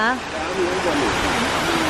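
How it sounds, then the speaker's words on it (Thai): A waterfall at Mae Kampong in Chiang Mai gives a steady, rushing roar of falling water, with a person talking over it. "มีน้ำตกข้างหน้า"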